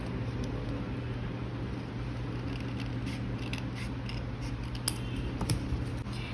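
Scissors cut through a paper journal kit printout on a tabletop, a run of close, soft snipping clicks over faint background hum, with no talk.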